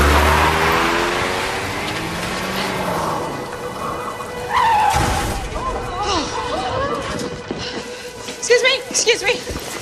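A car drives away from a parking lot, its engine rumbling and revving under people talking, with rain-like noise and scattered higher tones rising toward the end.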